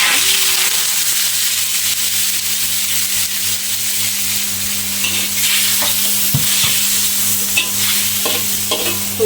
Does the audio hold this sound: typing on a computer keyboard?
no